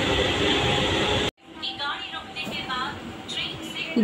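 Local train on the Digha to Howrah line pulling into Santragachi Junction: a steady loud rumble that cuts off abruptly, then quieter carriage hum with a voice speaking over it.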